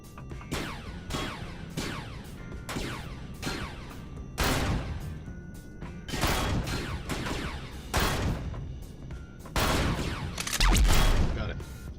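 Repeated gunfire bursts in the Empyrion video game, a series of sharp loud shots and volleys recurring every second or so, close and punchy with dense overlapping reports and no talk.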